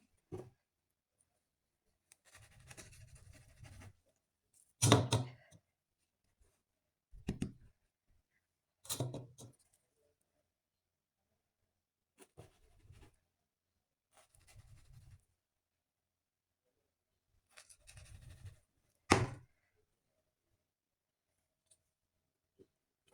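A knife cutting potato snack dough on a board, a series of separate scraping and tapping cuts spaced a couple of seconds apart with silence between them, close and fairly quiet.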